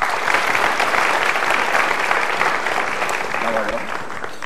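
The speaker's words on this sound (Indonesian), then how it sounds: "Boleh tepuk tangannya?" A seminar audience claps steadily in a sustained round of applause, fairly loud and dense, easing slightly toward the end.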